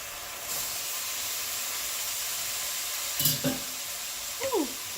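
Shrimp hitting a hot pan of zucchini and soy sauce give a steady, even hiss throughout, with a few brief louder spits and crackles near the end. No voices are heard.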